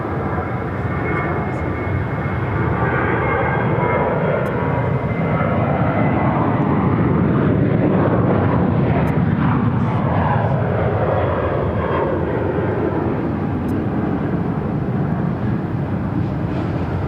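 At Phoenix airport, an American Airlines jet takes off from runway 7 left with a loud, continuous engine roar that swells and holds near the listener, while radio voices speak faintly over it.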